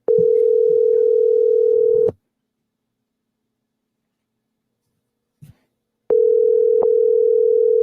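A phone line gives a loud, steady tone while a caller is being called back. The tone drops out into silence with a brief click, then starts again.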